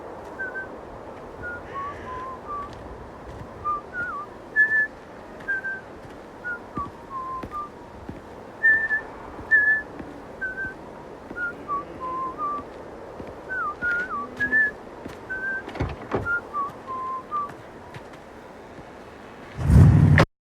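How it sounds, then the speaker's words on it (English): A man whistles a tune while walking away from a phone booth and across a road, a clear melody of short, distinct notes over faint outdoor background noise, ending in a brief loud thump. "he walks away from that phone booth and he's whistling a tune"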